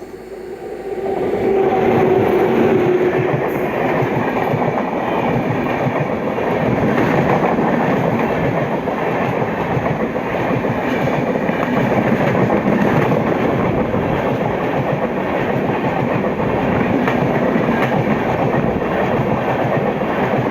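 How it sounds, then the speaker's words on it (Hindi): Lucknow Chhapra Express passenger train, number 15054, pulling away and running: a loud, steady rumble of wheels and carriages with faint rhythmic clatter, continuous throughout with no voices. "ठीक उसके ओवरटेक करते ही हमारी ट्रेन का डिपार्चर भी ले लिया है।"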